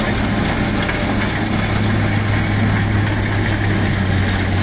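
A tractor clears snow from a pedestrian crossing in Norway, its engine a loud, steady drone with a deep low hum that holds constant from start to finish.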